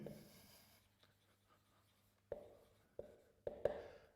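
Writing by hand during a lesson on mechanical oscillating systems: faint, close scratchy strokes in short bursts with quiet pauses between them, growing a little louder toward the end, with no voices.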